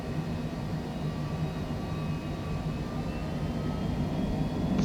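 Twin jet engines of a Cessna Citation C700 spool toward takeoff throttle in Microsoft Flight Simulator, a steady, even broadband roar with faint tonal whine, swelling slightly near the end, no voices.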